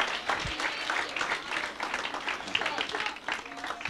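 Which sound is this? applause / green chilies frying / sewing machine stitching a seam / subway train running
applause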